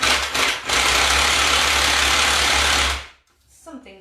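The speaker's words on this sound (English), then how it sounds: "Whizzing my dates. Ooh, that's a noisy whiz." Food processor whirring loudly and roughly as it blends dates with hot water, a steady strained grinding drone for about three seconds that then cuts off abruptly, followed by a brief voice.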